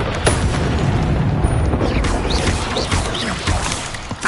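Incendio fire spell in Hogwarts Legacy, a loud booming, fiery blast followed by rolling crashes and whooshes in thick combat noise, with no clear talk.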